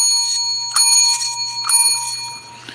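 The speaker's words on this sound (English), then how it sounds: "It's a sterling silver bell" A sterling silver bell rung by nose sounds in a sustained, bright ringing tone with two fresh strikes renewing the shimmer, close and fairly loud, heard alone without speech.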